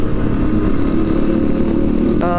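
A big motorcycle rumbles loudly and close by, its engine giving a steady low droning roar for the whole stretch, with a brief higher engine note rising near the end.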